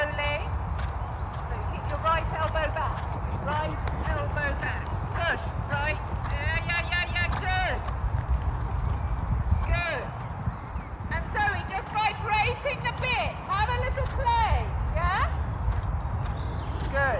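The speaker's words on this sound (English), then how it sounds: "And then trot again and do that again, Zoe." Horse hooves clip-clopping through trot and canter work at an eventing camp at Hickstead, a steady rhythmic beat running throughout beneath an instructor's voice and other talk.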